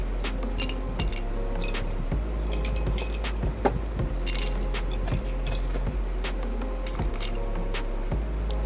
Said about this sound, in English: and few ice cubes.